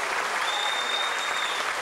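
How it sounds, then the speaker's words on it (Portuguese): Audience at a 1998 anniversary celebration of the Pousada do Rio Quente applauds the choir's conductor, a steady, even wash of many hands clapping, moderately distant and soft, with no talk over it. "E também uma salva de palmas ao querido regente,"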